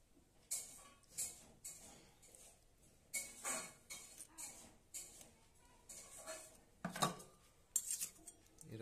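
A spoon stirs food colouring in a small bowl, making a series of light, close metallic clinks and taps that come in irregular bursts with quiet gaps between them.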